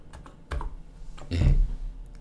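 A few sharp, close keyboard key presses in a quick irregular burst, from a computer keyboard used while working in AutoCAD, with one heavier thump near the end.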